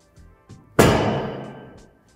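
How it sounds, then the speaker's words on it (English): A sharp, loud single click-clack as a plastic long axle snaps into the notches of a Lifetime Speed Shift base under foot pressure, preceded by a couple of faint knocks and ringing briefly afterward. "Step on the base until you hear the click of the long axle snapping into place"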